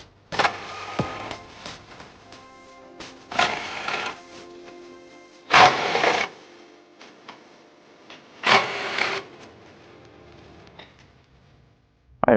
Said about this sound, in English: we're going to go ahead and use our impact drill and a 21mm swivel socket